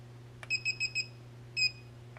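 A small FL-L43 remote fob emits four quick high electronic beeps in a row, then after a pause one longer beep, clear and close against a low steady hum.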